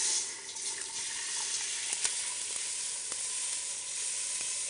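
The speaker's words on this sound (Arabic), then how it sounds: "لما حضيف المي حيطلع عندي بخار كتير" Meat frying in a pot as water is poured in, giving a loud, steady sizzling hiss of steam that runs without a break, with a few faint clinks over it.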